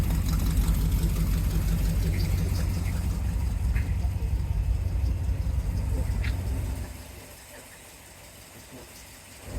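A 1985 GMC Sierra restomod pickup with a 355 engine idles through a dual Flowmaster exhaust, a steady low rumble that runs loud and close for about six seconds, then drops away to a quieter hum.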